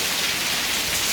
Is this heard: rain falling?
yes